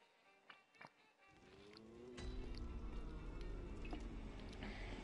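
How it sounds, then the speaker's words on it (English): A person drinking water with soft liquid sips and swallows, quiet and close, followed by a steadier low rumble of background noise. "And I shall take a drink of water real quick."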